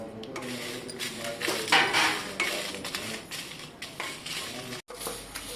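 Dried red chillies and curry leaves roast in a pan while a spatula scrapes and clinks against the metal, a busy run of close, uneven stirring clatters that stop abruptly near the end.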